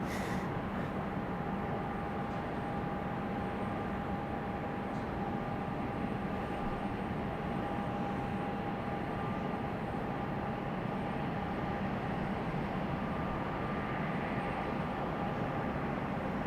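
A Frontier airliner arriving from DFW at Raleigh-Durham airport, a steady, faint, distant jet roar holding evenly throughout with no talk.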